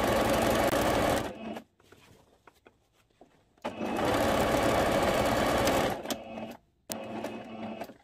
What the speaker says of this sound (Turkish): Aynı şekilde çekerek dikmeye devam ediyorum.